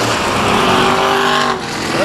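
A stock race car's engine roars loud and close as it powers out of a turn on an oval speedway, a sustained high-revving drone that briefly dips before picking up again.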